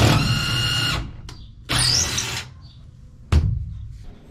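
A power drill drives a screw into a box truck camper wall to mark a hole. It gives two short whirring bursts and then a brief final blip, separated by quiet pauses.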